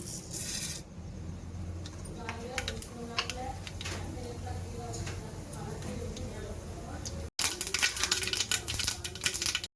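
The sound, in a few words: mustard seeds spluttering in hot oil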